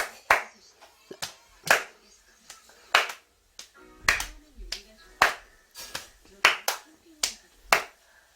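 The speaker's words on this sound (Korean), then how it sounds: "빨리 자 손뼉 치고 손뼉 치고" A child's hands clap in a quick but uneven series of sharp, close claps, about a dozen strikes, with voices talking and encouraging in between.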